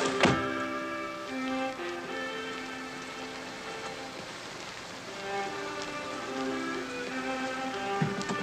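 Steady outdoor rain falls in a continuous hiss, with a dull thunk near the start and sustained musical tones beneath.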